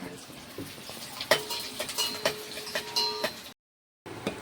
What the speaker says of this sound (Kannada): ಉಳ್ಳಾಗಡ್ಡಿ ಹಾಕಿ ಚಂದ ಫ್ರೈ ಮಾಡ್ಕೊಂಡು